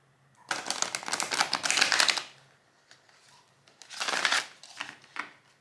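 Tarot cards being shuffled in two bursts of dense, fast riffling and flicking, fairly close and clear, with a short quiet pause between them and no talking.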